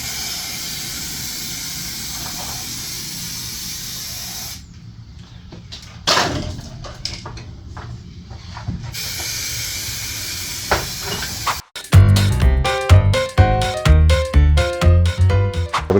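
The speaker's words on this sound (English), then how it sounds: "You've got to get the perfect spray first time." A spray gun lays textured paint onto a Passat B3 bumper in a steady, loud hiss lasting several seconds. Quieter shop clatter follows, then music.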